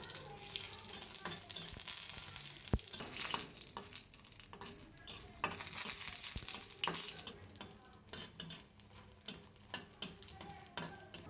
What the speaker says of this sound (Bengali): শুকনো মরিচ, রসুন ও পেঁয়াজ ভেজে নিচ্ছি